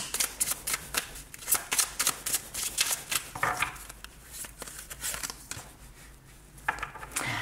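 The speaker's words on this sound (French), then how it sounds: "je vais vous faire un petit tirage ici avec cet oracle" Oracle cards are shuffled for a reading in a rapid, crisp series of riffling flutters and soft slaps, close and fairly loud, repeating steadily with brief pauses between bursts.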